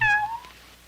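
A cartoon cat gives a single short, clear meow, loud and close, fading quickly into quiet with no talk.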